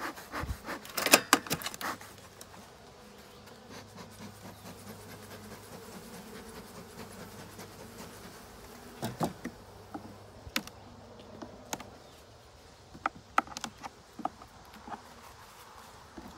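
Honey bees buzz around an open hive in a beeyard, a steady low drone of many bees close by, punctuated by occasional sharp clicks and knocks of hive equipment.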